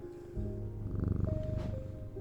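A cat purrs steadily in a pulsing low rumble, fairly close, over layered game music and ambience from a strange-antiquities game session.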